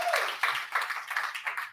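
Audience at a business talk clapping in a loose, moderate round that rises and dips over a couple of seconds, fairly distant.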